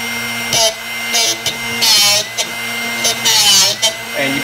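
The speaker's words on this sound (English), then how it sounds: "You just have to keep rotating it until you stop hearing a grinding sound." Short bursts of high-pitched grinding from a Drill Doctor 750x bench drill bit sharpener, starting and stopping repeatedly, with a person speaking between the bursts.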